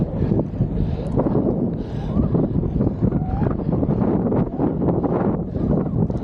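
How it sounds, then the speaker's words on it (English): Steady rumbling wind on a roadside buffeting the microphone, loud and constant throughout with low gusty roar. "it's pretty windy on this road"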